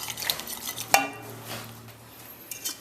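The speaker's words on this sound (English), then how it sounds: "Give that a quick stir." A utensil scrapes and clinks against a cooking pot as a mustard barbecue sauce with mango and honey gets stirred, with one sharper knock of metal amid steady scraping that is close up and moderately loud.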